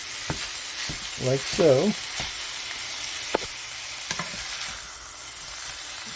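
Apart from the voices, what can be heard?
hamburger meat sizzling as it is broken up in a pan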